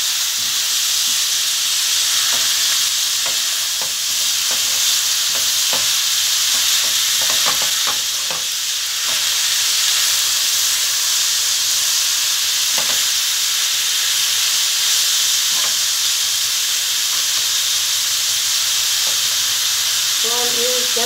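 Onions sizzle steadily in a hot pan while cooking down for a Turkish eggplant kebab, a continuous close frying hiss with occasional soft stirring scrapes and no voices.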